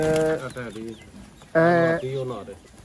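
Pigeons offered for sale in Sialkot, including teddy pigeons, give short harmonic coos and calls in two close bursts, with a louder burst in the middle and no talk over them.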